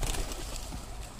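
Pigeons coo softly nearby, a brief low murmur over quiet background noise.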